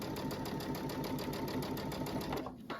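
A Babylock Altair sewing machine stitching in the ditch on a quilt, running at a fast, even, rapid rhythmic chatter close up for most of the stretch before stopping abruptly near the end.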